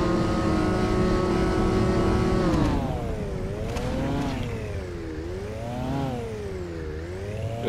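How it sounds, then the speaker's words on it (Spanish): A motorcycle engine revs in the PS4 beta of SNOW, a steady drone rising and falling in pitch through repeated throttle swells, fairly close and with no voices. "Vamos a una vueltuca en moto"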